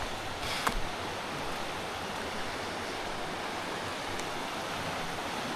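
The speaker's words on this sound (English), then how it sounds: "Beautiful little creek, this one." A small creek flowing through the bush near a hut, giving a steady, fairly faint wash of running water with no talking over it.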